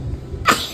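One short, sharp sneeze bursts out nearby after a moment of quiet room noise.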